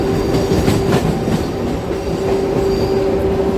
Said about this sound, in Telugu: కృష్ణా జంక్షన్ రైల్వే స్టేషన్ నుంచి మనం బయలుదేరిపోయామండి.